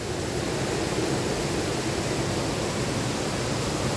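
The Rio Huastena Conacaste in Chalatenango flowing in a constant, dense hiss of moving water, loud and close, steady for the whole stretch with no speech over it.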